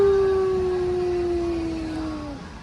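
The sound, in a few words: coyote howl from a Bass Pro store display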